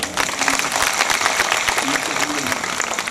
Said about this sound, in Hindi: एक बार जबरदस्त ताली हो जाए।